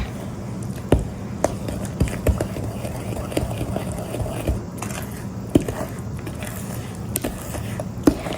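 A wooden spoon mixes cranberry custard pie filling with sugar and flour in a bowl, giving soft, steady scraping and thuds with regular dull knocks, close and moderately quiet.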